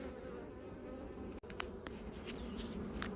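Guard bees buzz steadily around apiary hives, a dense continuous hum up close with individual insects droning past, one brief dropout partway through.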